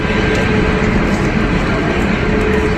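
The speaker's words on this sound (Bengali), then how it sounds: "কলকাতা জম্মু তাওয়া এক্সপ্রেস এখন দমদম জাংশন ক্রস করছে" The Kolkata–Jammu Tawi Express passes through Dum Dum Junction with a loud, steady rumble of wheels and carriages that holds unbroken throughout.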